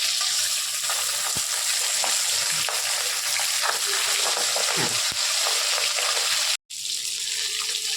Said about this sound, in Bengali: মাছের একদিকটা ভাজা হয়ে গেছে, আমি উল্টিয়ে নিচ্ছি।